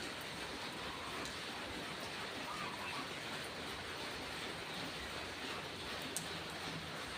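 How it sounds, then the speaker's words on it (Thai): Light drizzling rain falls in a steady, soft hiss that stays even from start to finish, faint and diffuse with no distinct drops or voices standing out. "เอาบรรยากาศ ฝนตกปรอยปรอย"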